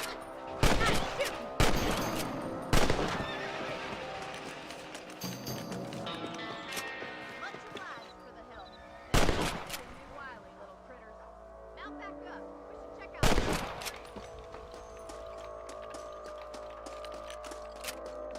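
Rifle shots in Red Dead Redemption, a handful of sharp loud cracks spaced several seconds apart, with mechanical clicking of the weapon and game sounds between, and a voice talking at times.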